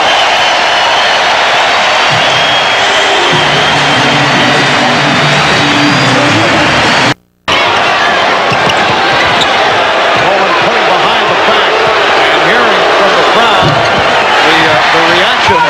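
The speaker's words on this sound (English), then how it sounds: "The Knicks receiving a standing ovation" A loud, roaring arena crowd gives a sustained standing ovation at a 1994 NBA playoff game at the Knicks' home court, with a broadcast voice talking over the noise and a brief cut partway through.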